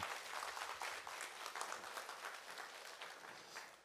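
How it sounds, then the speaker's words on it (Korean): An audience gives steady, dense applause welcoming soprano Kang Hye-myeong at a performance, sustained clapping that fades slightly toward the end. "강혜명 씨 좀 큰 박수로 맞아 주시겠습니다"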